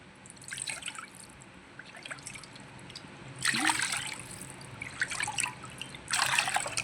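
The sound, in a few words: pouring water into a pan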